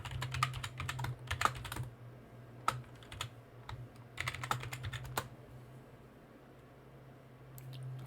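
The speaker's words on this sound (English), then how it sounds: "type the password" Password typed on a computer keyboard during setup of a CCX-BOX crypto miner device: two bursts of quick, close key clicks with scattered single taps, over a steady low hum, no talking.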